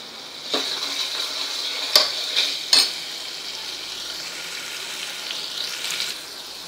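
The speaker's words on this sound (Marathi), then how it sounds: "अर्धा मिनिट झालेला आहे आपल्याला मसाला परतून।" Ground masala is stir-fried in a pan over medium heat, giving a soft sizzle broken by a few sharp clicks of a utensil against the pan.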